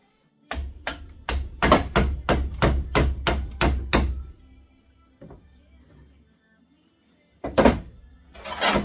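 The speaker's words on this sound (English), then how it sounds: "I successfully got 3 screwdrivers wedged in there." Screwdrivers are hammered in to wedge them under a stuck part, about ten sharp, evenly spaced metallic strikes in quick succession, then a lone tap, a pause and a final burst of clatter and scraping.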